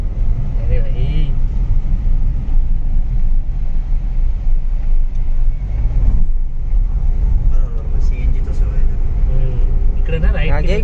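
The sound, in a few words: car being driven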